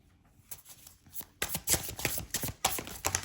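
A deck of tarot cards is shuffled close by, with soft riffling and flapping that grows louder and busier over a few seconds.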